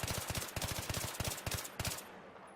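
Rapid gunshot bursts from a weapon in Battlefield 3, several tight clusters of three to four loud close shots in quick rhythm, ending with a fading tail.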